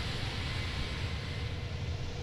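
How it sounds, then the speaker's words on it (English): Airbus A310 jet engine fan noise from outside the aircraft in Microsoft Flight Simulator 2020: a steady, broad roaring whoosh with a deep rumble underneath, continuous and even throughout with no talk. "Fan noise up front."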